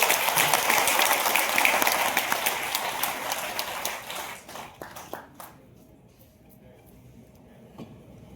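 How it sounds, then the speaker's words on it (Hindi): An audience at a talk bursts into loud applause that swells, then breaks into scattered claps and fades out within a few seconds. "एक बार जोरदार ताली हो जाए"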